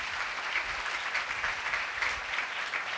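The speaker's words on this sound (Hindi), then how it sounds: "तालियां बजाओ" A congregation applauding during a live sermon, dense steady clapping from many hands, sustained and fairly loud for the whole stretch.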